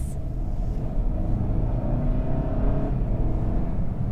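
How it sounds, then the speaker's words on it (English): A 2022 Hyundai Santa Cruz SEL Premium accelerates, its engine rumbling loud and steady from inside the cabin with a rising whir and no talk. "let's give this some gas"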